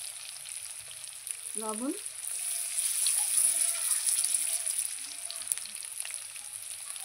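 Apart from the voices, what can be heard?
potatoes frying and sizzling in oil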